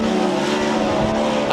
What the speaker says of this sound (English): Listen to that exhaust note.